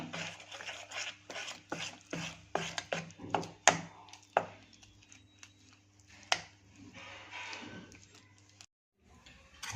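Palak chana dhokla batter is stirred in a bowl, giving a close run of quick, uneven clicking and scraping strokes that thin out, pause briefly and then resume.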